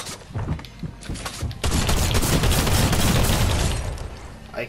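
Gunfire from a gun in the video game Fortnite. A few scattered shots give way to a dense, continuous burst of rapid fire that dominates for several seconds. Faint voices may sit underneath.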